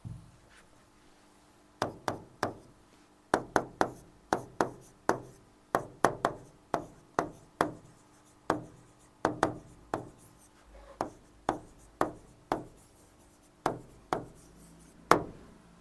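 Chalk or marker strikes sharply on a board while a sentence is written during an English grammar lesson, giving a steady run of quick, distinct taps close by, with no talking over them.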